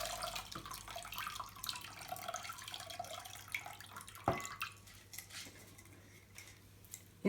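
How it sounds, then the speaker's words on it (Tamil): Rice being washed with water in a bowl at a kitchen sink, with gentle sloshing, trickling and light clinks of grains and vessel, one sharper knock midway and a clatter at the end. "நான் இங்கே அரிசி கழுவுற மாதிரி காட்டுறேன்."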